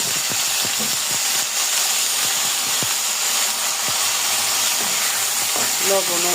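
Fish frying in a pan with green chillies and onion gives a steady hissing sizzle with scattered soft ticks and scrapes of stirring, close and moderately loud, with faint talk underneath.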